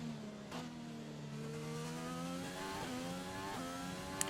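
F1 car engine in the F1 2020 video game during a night race lap, a steady high-pitched whine rising and shifting through gear changes, loud and continuous with no talk.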